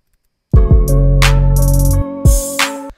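Drum beat in a music production demo featuring a 16th note triplet roll, with booming low hits, a rapid burst of six quick strokes and crisp cymbal or snare hits, loud and clean with no voice.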